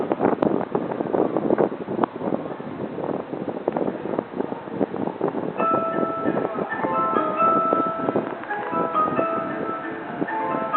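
Tokyo Teleport Station on the Rinkai Line, where a bright chiming departure melody starts partway through over steady platform hum and wind noise, playing a clear tonal tune near the microphone.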